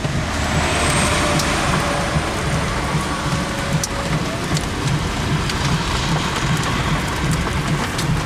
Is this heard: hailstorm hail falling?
yes